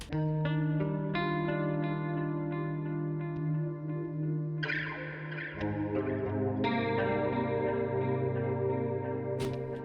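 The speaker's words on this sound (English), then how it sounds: "it's adding a huge amount of like chorus, which is coming from the hyperdimension effect" Sustained guitar chords in shoegaze style drenched in wide, shimmering chorus from Serum's hyperdimension effect and lush convolution reverb, several chord changes ringing out with a bright strum near the end.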